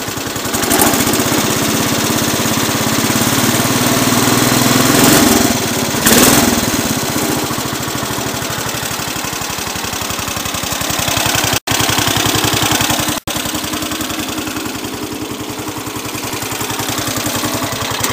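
The engine of a Cub Cadet 107 lawn tractor runs steadily and loudly up close after a cold start, with a fresh fuel filter and fuel line fitted. It makes an even, continuous mechanical drone with two momentary cutouts.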